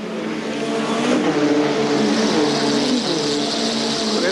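Racing cars from the 1985 Nissan Turbo Super Challenge at Calder accelerate hard through a corner, a steady loud engine roar with rising and falling revs as several cars pass close, the rear wheels losing a little traction.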